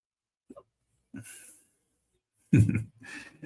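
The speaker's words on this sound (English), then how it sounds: "Yeah, I got the hiccups, guys." A man hiccups a few times in a quiet room: a small catch, then two fuller gulping hiccups, close and fairly soft, with nothing else around them.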